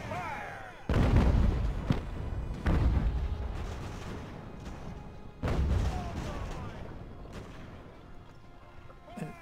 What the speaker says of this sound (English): we gotta just put the artillery on them